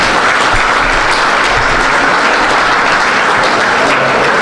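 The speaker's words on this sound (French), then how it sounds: "On peut l'applaudir, s'il vous plaît." A large audience at a charity gala claps continuously, a dense, loud wash of applause with no pauses.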